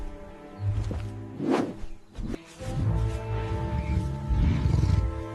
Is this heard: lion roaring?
yes